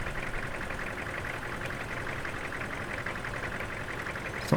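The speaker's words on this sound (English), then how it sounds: "It's not the most manoeuvrable tractor ever." Vintage tractor engine running steadily as it reverses, a continuous mid-pitched mechanical drone with a rapid knocking pulse, close and consistently loud throughout, no talk.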